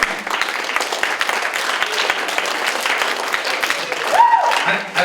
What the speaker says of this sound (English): I've never been clapped for before when I misspelled a word